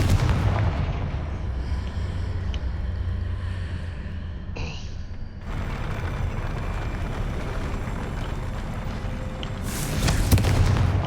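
Confringo fire spell cast in Hogwarts Legacy gameplay, heavy booming blasts and crackling bursts over a constant rumbling backdrop, with a bright flaring impact near the end.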